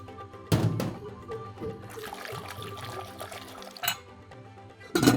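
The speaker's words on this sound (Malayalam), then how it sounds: "ഇനി നമ്മൾ ഇതിലേക്ക് കുറച്ച് വെള്ളം ഒഴിക്കുന്നു കേട്ടോ." Water poured into a pressure cooker holding a turmeric and coconut oil mixture, giving a steady gushing splash with a few sharper clunks at the start and end, no talking.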